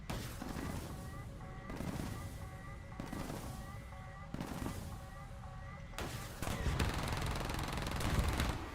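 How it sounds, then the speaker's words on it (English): A War Thunder vehicle fires in repeated bursts, each a sharp blast trailing into rumble, about five volleys with a denser, louder barrage at the end. "Fire more, just keep firing."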